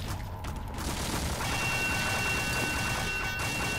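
Sword deflecting a burst of gunfire in the video game E.Y.E: Divine Cybermancy, heard as a steady, dense rattle of shots and metallic impacts that runs through the whole stretch, loud and continuous with no talking.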